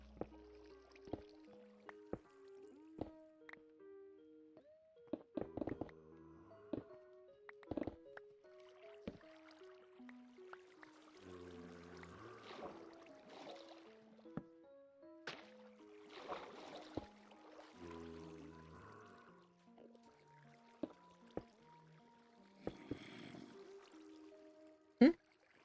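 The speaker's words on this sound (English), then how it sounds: "Trying to get all of the water sources so that everything drains and we no longer hear water" Faint dripping and trickling water in the video game Minecraft, scattered plinks and gurgles mixed with soft game tones and music notes, quiet and intermittent throughout.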